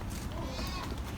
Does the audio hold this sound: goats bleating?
yes